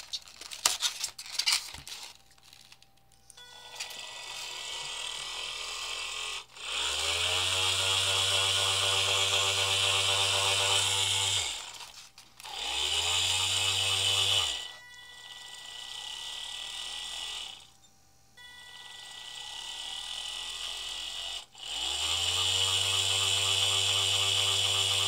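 A small DC motor driven by an Arduino L298P motor shield spins up in repeated runs, a steady whirring hum with a bright mechanical whine, each run stopping abruptly before starting again.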